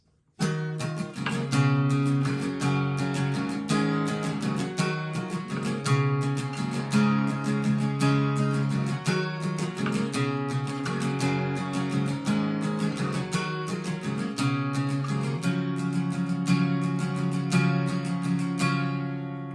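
Guitar chords strummed steadily in the chorus pattern of a song, full and continuous for about twenty seconds, with no voice over it.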